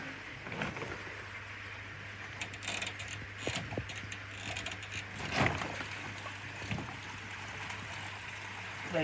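Water drains out through an opened bottom drain of a garden pond filter, giving a low gurgling rush with scattered knocks and clicks, faint and steady.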